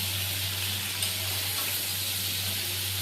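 Prawns sizzle in hot oil in a wok, a steady, even frying hiss with no talk, holding constant throughout.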